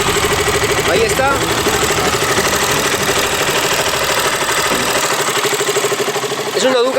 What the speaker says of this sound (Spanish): Es una Duke 200, queridos amigos. Y así es como suena esta moto.